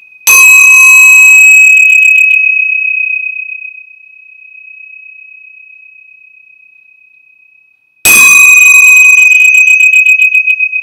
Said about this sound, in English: We're going to ring the tingsha bells.